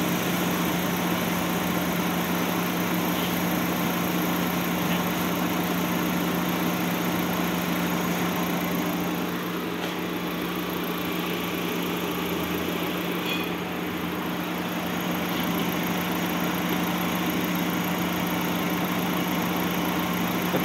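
A car engine idles steadily at a slightly raised speed during an air conditioning system repair, a continuous even hum throughout with no talk.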